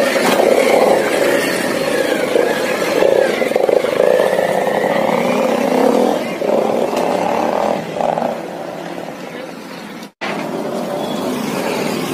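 Modified Pulsar 150 motorcycle on a test ride, its engine droning loudly and steadily as it rides nearby, shifting pitch slightly, then dropping out abruptly for a moment near the end before returning.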